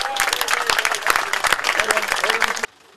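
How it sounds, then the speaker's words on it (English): A crowd of workers claps their hands in loud, close, busy applause with voices mixed in, then the clapping cuts off abruptly. "So clap your hands."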